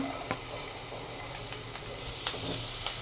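Garlic fries in hot olive oil for shakshuka, giving a soft, continuous sizzle and hiss with a few faint ticks and pops scattered through it.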